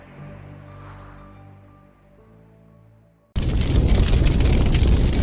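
A sudden, massive explosion from an impact cuts in after a low, fading rumble and then roars on as a loud, sustained blast.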